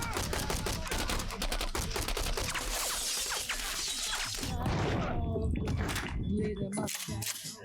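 Gunfire in a TV drama scene, heard through a viewer's reaction, with loud dense bursts and crashes filling the first half, then sharper scattered cracks, and voices talking over the action throughout.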